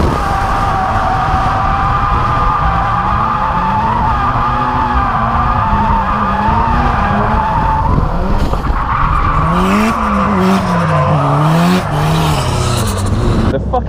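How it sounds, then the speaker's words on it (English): A Toyota GT86 drifting on track at Rockingham, its exhaust running louder than normal, with a continuous close, harsh engine drone that rises and falls in pitch under sustained tire squeal, loud throughout. "the exhaust's a bit louder than normal"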